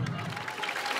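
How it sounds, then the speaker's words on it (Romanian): Brief burst of audience applause at a high school senior class parade, a dense wash of clapping heard from within the crowd, steady and moderately loud for about a second. "Vă rog aplauze."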